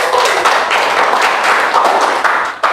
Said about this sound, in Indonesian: Aplaus buat Anda semua.